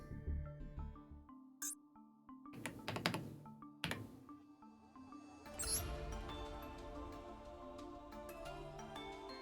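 Keystrokes on a computer keyboard during a game stream, scattered clicks and thunky taps over music, sparse at first and then bunched into short flurries, fairly quiet.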